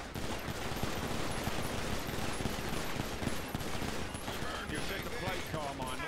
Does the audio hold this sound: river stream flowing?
no